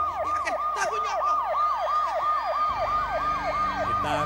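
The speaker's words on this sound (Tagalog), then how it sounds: "Ayan na naman yung mga wangwang na yan." A wailing siren cycles rapidly up and down in a steady yelp, loud and close, with traffic rumble beneath.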